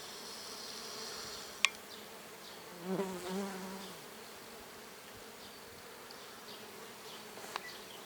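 Steady bees buzzing close by among roses, a droning hum with a louder pass midway and a couple of sharp clicks, no talking.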